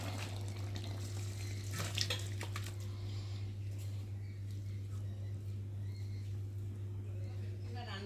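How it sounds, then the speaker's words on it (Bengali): Rohu fish curry is poured from a pot with a soft, faint liquid splash and trickle, quiet over a steady low electrical hum. "আমি এদিকে তরকারিটাকে ঢালতে থাকি।"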